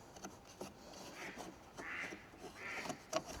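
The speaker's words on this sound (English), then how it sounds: "two ducks are killing each other." Two ducks quack and squabble nearby in a short, irregular burst of harsh calls, moderately faint against quiet outdoor background.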